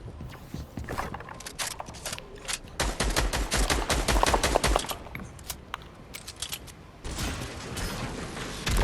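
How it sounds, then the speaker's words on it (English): Rapid bursts of automatic gunfire and single shots ring out in a Fortnite match, loud, dense volleys with brief pauses before another burst erupts. "Dude, who am I getting shot from?"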